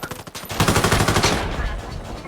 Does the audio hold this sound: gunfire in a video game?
yes